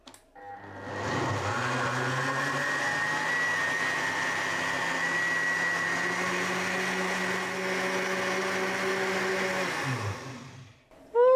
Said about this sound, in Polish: ja już przykrywam i zaraz zacznę mielić